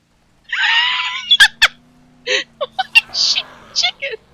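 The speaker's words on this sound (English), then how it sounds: "Shit, chicken!" A chicken in a zombie video game gives a few sharp squawks and clucks, followed by a burst of short chirpy calls, close and loud in a quiet game scene with a faint steady hum beneath.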